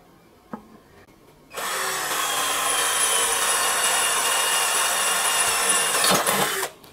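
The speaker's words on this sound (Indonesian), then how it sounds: "Pengujian selanjutnya adalah kita akan melakukan pengeboran dengan diameter mata bor di 5 mili." A Blackfoot 12 volt cordless drill bores a 5 mm hole through 3 mm steel angle iron, starting after a brief click and running as a loud, steady whine with grinding bite for about five seconds before stopping abruptly.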